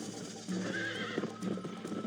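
Horse in the Red Dead Redemption video game, galloping with steady clip-clop hooves and neighing, a loud whinny standing out midway over a busy game soundscape, with no talk.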